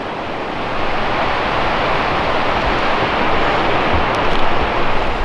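Rushing water of Upper Mesa Falls waterfall, a loud, steady roar of dense broadband noise that holds constant throughout with slight surges.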